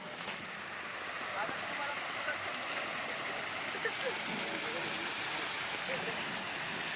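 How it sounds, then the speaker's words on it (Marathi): Water spilling steadily over a small dam outdoors, a continuous broadband rush at moderate distance with faint background voices. "तर हा आपला छोटा डॅम आहे तुम्ही आवाज ऐकू शकता"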